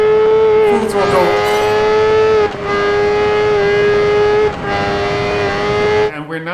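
A car engine at full throttle in Project Gotham Racing 4 roars loud and close, its tone sweeping through gear changes with brief dips. It cuts out abruptly near the end, and speech can be heard over it.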